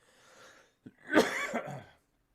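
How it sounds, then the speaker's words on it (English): A single throaty cough, close and fairly loud, preceded by a quieter exhale, with silence after. "I'm just going to keep coughing, I guess."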